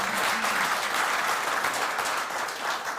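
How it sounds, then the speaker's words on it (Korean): Steady applause from a forum audience at a defense industry breakfast gathering, dense clapping filling the room without letup for a few seconds. "박수 한번 칩시다."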